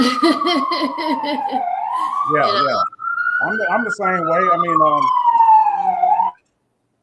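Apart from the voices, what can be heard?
police siren in the street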